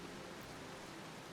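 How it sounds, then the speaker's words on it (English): Steady rain falls in Final Fantasy XIV as a continuous, even wash of soft hiss with no clear individual drops, held at a low level throughout. "Why is it raining almost every time I've noticed it lately?"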